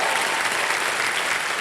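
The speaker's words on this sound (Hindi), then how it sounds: "तालियां बज जाए इनके लिए" Studio audience on a TV quiz show bursts into loud, dense applause, a steady roar of many hands clapping close by, with no speech over it.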